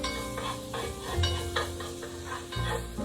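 Carrots for Korean gamja bokkeum, stir-fried potato, sizzle in a pan while being stirred, with a steady frying hiss and a few short scraping strokes, close by and without talk.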